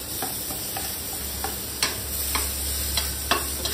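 Garlic and onion sauté in a pan, a steady soft sizzle with light, irregular clicks and taps from stirring, close and alone with no talk.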